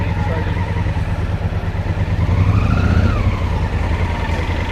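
A motorbike rides by on a high street in Suffolk, its engine droning loud and steady with a rising swell as it passes close, with speech mixed in.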